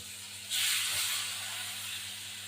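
Hot water hits a pan of hilsa fish curry with eggplant, setting off a sudden loud steam hiss that swells and then slowly fades over a low background hum.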